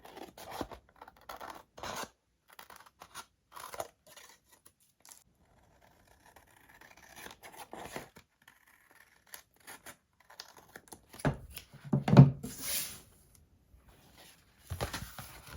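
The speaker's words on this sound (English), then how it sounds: "So I'm just gonna go in with my scissors and cut off this overhang." Scissors snip and scrape through paper in short, scattered bursts, trimming paper overhang on a handmade mini album, close and fairly quiet, with a louder crunchy cut near the end.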